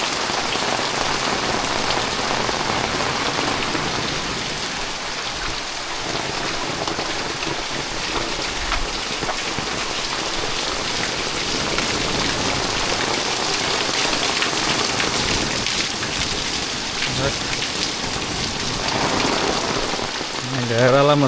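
Heavy rain pounds steadily on a village house in Ratnagiri, Konkan, a dense continuous hiss with close patter that holds loud for the whole stretch, with a brief faint sound near the end.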